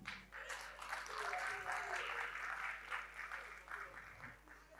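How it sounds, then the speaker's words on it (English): A comedy show audience applauds Peter Obi with a dense wash of many hands clapping. The sound is steady and fairly distant, and it swells slightly before tapering over several seconds. "Please put your hands together for Peter Obi."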